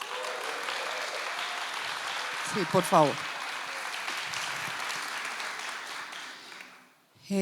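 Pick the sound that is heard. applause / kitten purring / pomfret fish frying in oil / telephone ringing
applause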